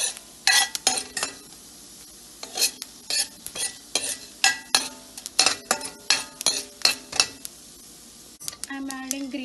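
Urad dal frying and being stirred in a pan for poha upma, a steady sizzle broken by a quick series of sharp scraping, clinking spoon strokes, loud and close, with no talk.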